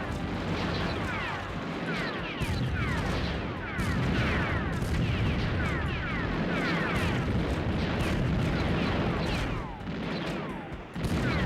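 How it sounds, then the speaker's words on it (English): Guided missiles launching in rapid succession in the tank combat video game BattleTanx, a dense, continuous barrage of whooshing shots and blasts layered over loud battle noise with no pauses. "Guided missiles, yay."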